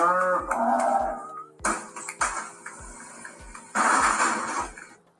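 A cow mooing loudly several times in long drawn-out calls, close by, with clinking pots or dishes and rhythmic knocking in the background and no speech.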